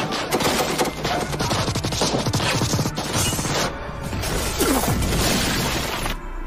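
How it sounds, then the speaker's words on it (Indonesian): A gunfire exchange in the action film Operation Red Sea: dense bursts of automatic weapons fire and sharp cracks layered with crashes, loud and continuous. "Aksi saling tembak pun tak terhindarkan."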